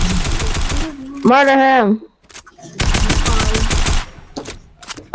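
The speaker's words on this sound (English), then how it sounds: "I just shoot him" Rapid automatic gunfire while shooting an enemy in a video game, loud bursts in two long stretches split by a pause, with people talking and a warbling electronic tone between the volleys.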